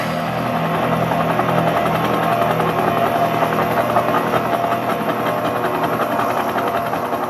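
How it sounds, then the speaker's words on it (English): Low-flying helicopters give off a continuous, steady drone with a rhythmic flutter, heard alone at an even level throughout. "Helicopters flying low."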